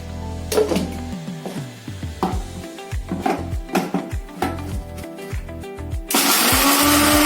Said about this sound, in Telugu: ఇంకొకసారి అట్లా మిక్సీ ఆన్ చేసి ఆఫ్ చేసేద్దాం